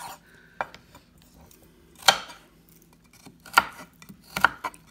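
A knife chops carrots into battens on a cutting board in a home kitchen, with a few sharp, separated knocks spaced a second or more apart, plus faint scrapes and a low hum in a quiet room.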